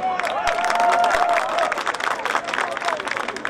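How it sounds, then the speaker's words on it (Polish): Spectators at an American football game between Lowlanders Białystok and Husaria Szczecin clap and cheer after a tackle, a crowd roar under a commentator talking over it, with a whistle-like tone early on. "Wielki brawa!"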